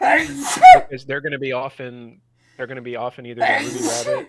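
A single sharp sneeze bursts out during a casual podcast conversation, set among several people chatting around it.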